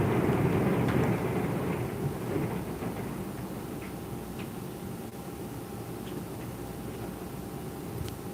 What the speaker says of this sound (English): rain, it's getting heavier.